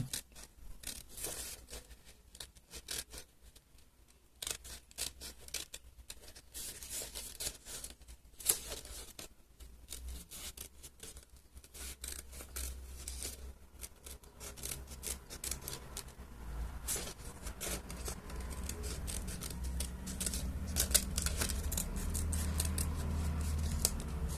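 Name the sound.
cutting out eye holes of a paper mask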